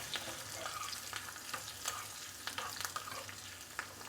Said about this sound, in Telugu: పచ్చిమిర్చి కొంచెం వేగనిచ్చి